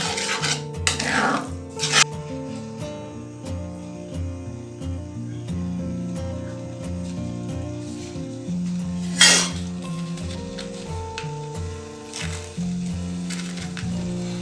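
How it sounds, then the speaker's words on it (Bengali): Metal spoon scraping and stirring sugar into homemade tomato sauce in a pan, with repeated rasping rubs and occasional clinks against the pan, close and fairly loud, no talking. "চিনিটাকে খুব ভালো করে মিশিয়ে নিচ্ছি।"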